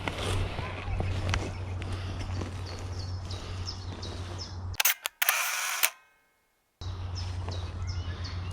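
A camera shutter fires once for a selfie outdoors on a woodland walk at Himley Hall, a crisp mechanical snap followed by a brief silence, with birds chirping and a low steady hum before and after.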